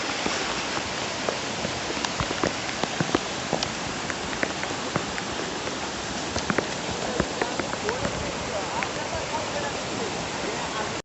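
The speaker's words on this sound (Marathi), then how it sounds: "पाऊस खूप जोरात पडतोय" Heavy rain pours down steadily on paddy fields during a trek, a dense, loud hiss of drops hitting the ground nearby that continues without a break.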